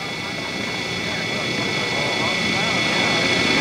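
A model aerobatic airplane, a Cap 232, drones steadily overhead as it comes around to land at a model airplane contest, a continuous engine hum that swells slightly louder toward the end.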